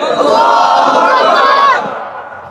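A large crowd at a religious gathering roars a loud unified chant of Allahu Akbar in answer to a takbir call, a sustained massed shout of voices for under two seconds that then tapers off.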